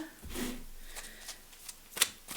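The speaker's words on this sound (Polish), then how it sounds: "Potasujemy tylko jeszcze." Tarot cards being shuffled by hand, a few soft quick riffling and slapping bursts with a sharper snap near the end, close and quiet with no talking.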